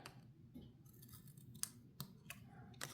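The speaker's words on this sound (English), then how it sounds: "we'll snip one side and snip the other side" Scissors snip paper for a handmade card, a few crisp close cuts spaced irregularly over a quiet background.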